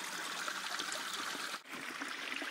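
Spring water trickles at a micro hydro pipe intake in Colorado, a soft continuous babbling stream heard close and alone, steady throughout.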